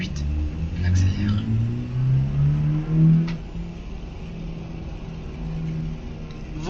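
Truck engine in Euro Truck Simulator 2 rising in pitch as it accelerates, a steady mid-low drone with gear-like steps, fairly close and continuous throughout.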